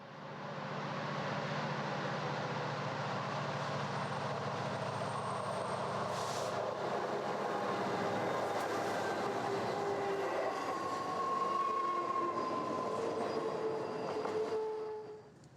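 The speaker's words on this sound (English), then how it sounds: "The latest additions to CP's line haul freights are General Motors SD90-43 Max." A Canadian Pacific line-haul freight train led by General Motors SD90-43 Max locomotives rumbles past in a canyon, a steady, broad roar of engines and rolling wheels that holds throughout, with faint squeals near the end.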